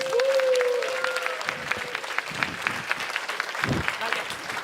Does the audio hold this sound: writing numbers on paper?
no